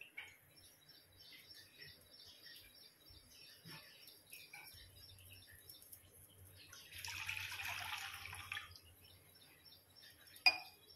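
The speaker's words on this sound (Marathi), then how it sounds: "पाणी टाकते." About a glass and a half of water is poured into a pot before steaming rava ukadiche modak in a home kitchen: a short splashing pour midway through an otherwise quiet stretch, ending with a faint clink of metal.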